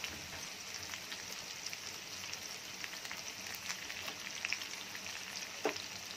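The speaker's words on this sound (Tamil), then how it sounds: "இது எல்லாத்தையும் நல்லா வதக்கிடுங்க." Ten peeled garlic cloves and curry leaves sauté in a pan for egg curry with a soft, steady sizzle and occasional light crackles and stirring clinks.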